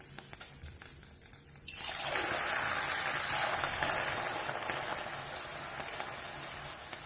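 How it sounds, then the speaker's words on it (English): Julienned potatoes drop into very hot mustard oil, setting off a loud, steady, broadband sizzle that swells suddenly after a quieter start and keeps roaring evenly, close up and alone. "Fry the potatoes in small batches."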